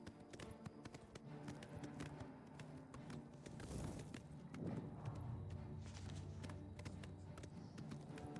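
A horse gallops in Elder Scrolls 4 Oblivion Remastered, its steady clip-clop of hooves running under continuous game music and ambience, moderately loud throughout.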